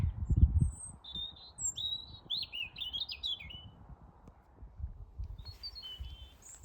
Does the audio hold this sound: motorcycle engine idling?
no